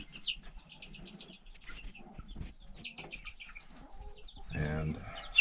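Silkie chickens in a crowded coop giving scattered clucks and soft calls, mixed with shuffling and rustling, growing louder toward the end.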